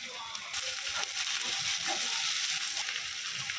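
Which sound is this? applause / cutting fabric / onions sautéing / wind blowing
onions sautéing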